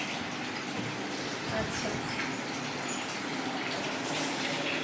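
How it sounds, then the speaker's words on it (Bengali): A bowl is washed under a running kitchen tap, with steady splashing water throughout and brief speech over it. "একটা বাটি ধুয়ে নিই"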